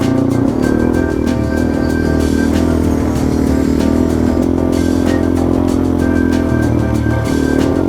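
A Yamaha TW200 motorcycle rides across the Mojave Desert, its small single-cylinder engine droning steadily and loud close to the rider, mixed with constant wind rush and no talking.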